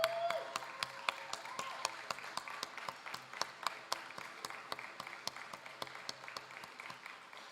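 A large crowd at a national robotics championship claps steadily throughout, a fairly quiet but continuous patter of many hands with scattered louder claps and no talking.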